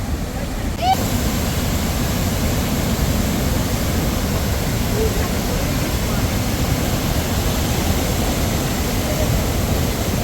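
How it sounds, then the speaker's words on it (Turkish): The Rhine Falls, a very wide waterfall, roars as a dense, steady broadband rush that fills the whole stretch at close range, loud and unbroken, with no voices. "Evet Ren Şelalesi Avrupa'nın en büyük şelalesi."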